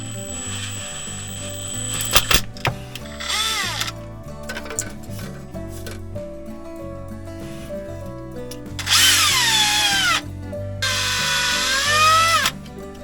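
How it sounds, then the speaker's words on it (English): A power drill whirs in several bursts, rising in pitch as it spins up, with mechanical clicks and clatter between runs; no talking. "then I'll drill the other 3 holes"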